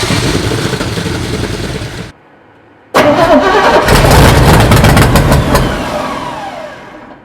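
Chevrolet C20 truck engine cranking after 15 years parked, one loud rough burst of cranking that cuts off, a short pause, then another strong crank that catches and roars close up before easing down.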